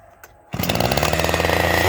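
After a brief quiet moment, a chainsaw engine roars to life and runs loud and steady at high revs, close by.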